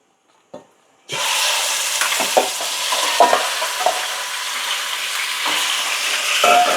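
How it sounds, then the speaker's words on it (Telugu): Mutton pieces dropped into hot oil burst into a loud, dense sizzle after a short quiet moment, with a few stirring knocks as the frying continues close by. "ఆయిల్ వేడెక్కిందండి ఇప్పుడు ఇలా మటన్ వేసుకుందాం"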